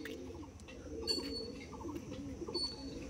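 Pigeons kept by a fancier in a remote Basirhat village coo softly and repeatedly at close range, with a few thin chirps and light clinks mixed into the quiet surroundings.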